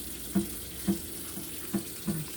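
Tap water runs steadily into a kitchen sink while dishes are washed after cooking, with a constant close hiss and a few soft knocks of dishes spaced about half a second apart.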